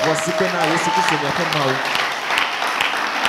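Applause from a church congregation cheering Jesus during a sermon, a steady patter of clapping that continues beneath a voice and shouts.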